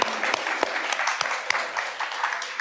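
An audience applauds competition winners at a student research event, a steady burst of clapping from a moderate-sized crowd with sharp individual claps standing out.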